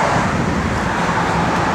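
A 1964 Buick Riviera engine running after being started, a steady, loud broadband roar with a low rumble, close and continuous, no talk over it.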